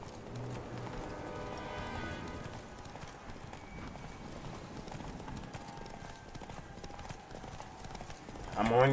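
Rapid, steady hoofbeats of a galloping horse in the video game The Witcher 3: Wild Hunt, over a dense bed of background music, with a brief voice and a louder burst near the end.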